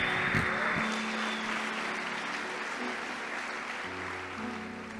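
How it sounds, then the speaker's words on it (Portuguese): A church congregation claps steadily in broad, continuous applause filling the room, holding at an even level throughout with no talk over it. "Vamos dar uma salva de palmas ao Senhor"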